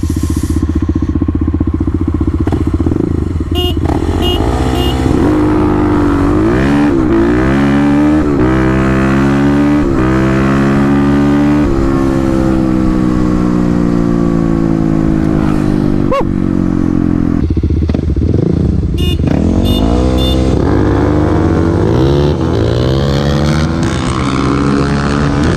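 Kawasaki KLX351 and KLX250 dirt bikes scream through a drag race, engines revving hard and loud with rising and falling pitch as they shift gears, close and continuous throughout.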